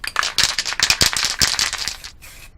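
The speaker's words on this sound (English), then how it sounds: "I am going to put some sealer on it and then some lacquer just to see the effect." Sealer sprayed from an aerosol can onto a turned, multi-coloured resin piece: a run of close, hissing spray bursts with brief breaks, ending in a fainter, shorter hiss.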